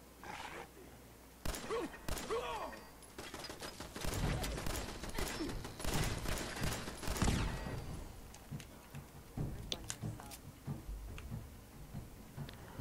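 Rapid gunfire in the video game Fallout 4, a dense run of sharp shots that starts after a quiet opening and then tapers into scattered, fainter reports.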